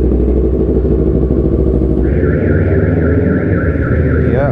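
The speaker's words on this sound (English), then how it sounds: "They make car alarms too sensitive." A car alarm goes off outdoors in the early morning, its loud electronic tone wavering on and on over the close, heavy rumble of an idling motorcycle with the silencer removed.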